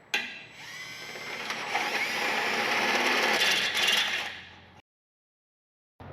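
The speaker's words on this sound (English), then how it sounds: "So really it's that easy to drill out this frame side mount." A power drill bores through the steel frame side mount of a Jeep Wrangler TJ for a track bar bolt, whining steadily for about four seconds before stopping abruptly, followed by silence and a brief restart.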